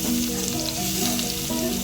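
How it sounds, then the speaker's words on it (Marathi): Malvani masala and turmeric fry on low heat in a pan, producing a close, continuous sizzle with a faint steady hum beneath it. "1-2 मिनिटं फक्त परतवायचं, फ्राय करायचं"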